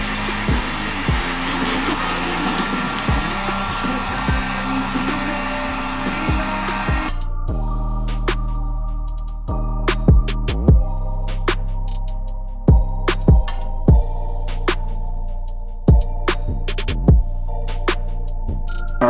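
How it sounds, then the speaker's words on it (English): A heat gun warms the cracked dashboard of a V8-swapped Chevy S10 truck, giving a steady, close blower roar for about seven seconds before shifting to a lower humming drone dotted with light clicks and knocks. "I'm going to be using a heat gun and heating up the dash"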